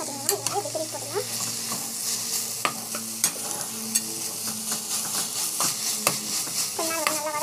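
Chopped vegetables sauté in a pan with a continuous sizzle, punctuated by frequent scraping and tapping strokes from a spatula turning them over.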